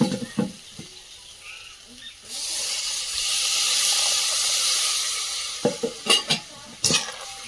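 Homegrown vegetables, including spinach stalks, sauté in a pan. A spatula scrapes and clatters against the pan, then a loud, continuous sizzling hiss swells for a few seconds before more quick stirring knocks.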